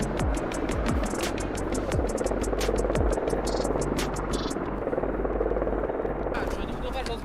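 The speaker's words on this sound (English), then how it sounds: "Helicopters are coming." Military helicopters fly in during NATO's Steadfast Defender 2024 Arctic exercise in Norway, their rotors thudding loudly and continuously as they close in, with radio chatter over the top.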